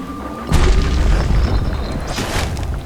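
A grenade in the video game Bastion goes off with a loud, booming blast, its rumble filling the rest of the moment with no talking.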